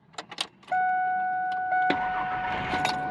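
A 2002 Ford F150 pickup with a new starter: a few clicks and rattles, then the starter motor whines steadily for over a second before the engine catches and roars into a rough idle nearby.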